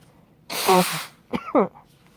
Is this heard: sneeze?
yes